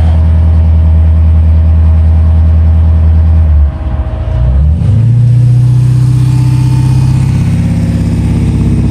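Jeep JK with a 392 Hemi V8 idling with a deep low rumble, dipping briefly, then held steady at a raised rev around 2,000 rpm, loud and close with a droning exhaust tone.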